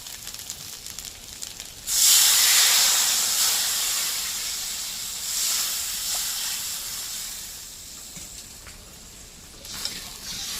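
Water is poured into a pan of hilsa fish curry, setting off a sudden loud steamy hiss and sizzle that slowly fades over several seconds, with faint clinks near the end and no talk.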